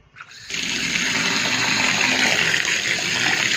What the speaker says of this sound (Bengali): এখনই জল গরম বেরোচ্ছে